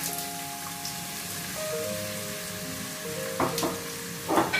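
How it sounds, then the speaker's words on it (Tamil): Two chopped onions sizzle steadily in hot oil for a chicken curry, a dense crackling hiss with a few louder spatters toward the end. "இப்போ வெட்டி வச்சிருக்கிற 2 வெங்காயத்தை போடுவோம்."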